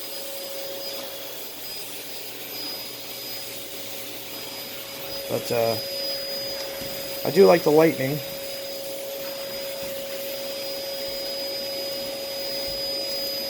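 A Sanyo SC30 canister vacuum cleaner runs with a steady whining drone and a fixed hum while cleaning a living room, with a few short bits of speech rising briefly over the motor.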